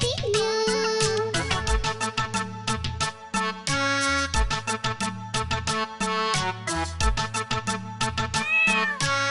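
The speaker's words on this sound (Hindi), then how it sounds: "बिल्ली करती म्याऊ" Cat-like meows ring out over a bouncy, steady Hindi children's rhyme, with music playing loudly throughout.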